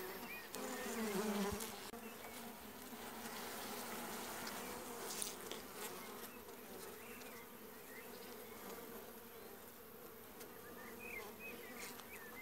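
A dense, continuous hum of many honeybees buzzing close by at an open hive during inspection, steady and soft, with occasional faint clicks and rustles underneath.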